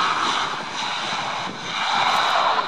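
A Saab jet aircraft's engines roar in reverse thrust after landing at an air show. The roar is loud and sustained, a broad rushing noise that swells slightly toward the end.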